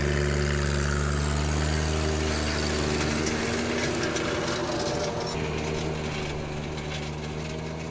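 A John Deere 1025R sub-compact tractor drives a tiller into untilled yard ground, its engine a loud, steady droning hum with churning rumble, gradually easing slightly in level, with no talking.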